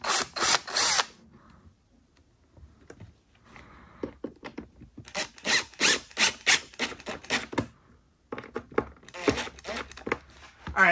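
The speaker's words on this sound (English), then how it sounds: "I'm going to pre-drill these" A power drill pre-drilling screw holes whirs in several short bursts separated by pauses, close by and fairly loud, with no talking.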